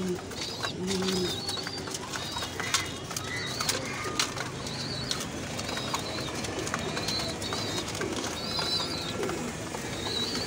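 Pigeons coo repeatedly in a dark breeding room, soft layered calls at varying distances over a dense, constant background of rustling and shuffling.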